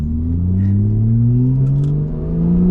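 A 2015 Porsche 911 Carrera 4S with aftermarket Valvetronic exhaust revs up close, its loud exhaust note climbing steadily in pitch with a throaty rumble.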